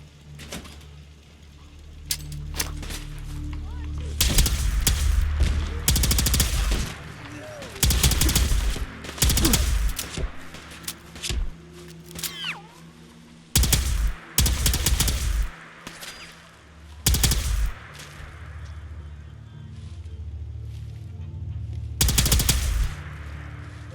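Turret gunfire in Fallout 4 rattles out in repeated loud automatic bursts, separated by quieter gaps over a low background, with a voice talking in places.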